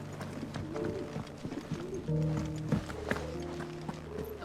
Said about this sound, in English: Am I hearing pigeons?